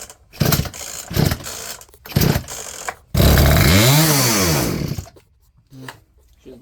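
A Poulan chainsaw fitted with a new Hipa carburetor is pulled over, a few short rough bursts, then it fires into a loud, close revving roar for about two seconds before dying away.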